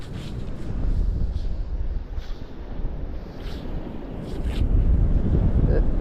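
Chilly wind blows outdoors, rumbling and buffeting the microphone in a steady low roar that swells and eases slightly.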